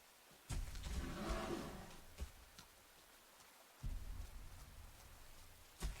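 Steady rain hiss in a video game, with low rumbling bursts and a few sharp thumps breaking through the downpour.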